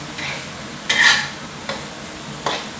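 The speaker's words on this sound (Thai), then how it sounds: "เราจะรอจนกว่ากุ้งเริ่มสุกนะครับ ตรงนี้ใช้ไฟแรงนิดนึงนะครับ" Shrimp stir-fried over high heat in a pan, a steady sizzle broken by a few sharp scraping stirs, one louder burst near the start, close and without voices.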